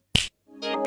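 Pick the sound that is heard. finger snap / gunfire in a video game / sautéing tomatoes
finger snap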